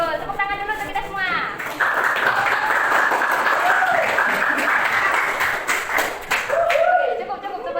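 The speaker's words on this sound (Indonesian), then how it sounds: "tepuk tangan dulu untuk kita semua" A classroom of students claps together during a microteaching lesson, a broad burst of clapping rising after a moment of voices and continuing steadily with some talk and shuffling mixed in before it thins out.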